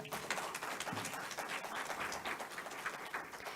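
A congregation gives a round of applause at a church service, dense steady clapping filling the room throughout without letting up.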